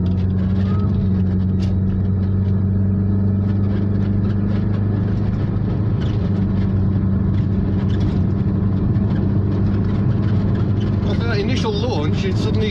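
A Volkswagen T25 Caravelle GL van accelerates from a standstill to 50, its engine droning steadily and loudly from inside the cabin for the whole stretch.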